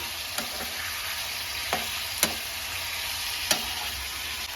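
Chicken being stirred and fried with salt and turmeric in a pan, a steady sizzle broken by several sharp scrapes and clinks of a spoon against the pan, close and with no talking.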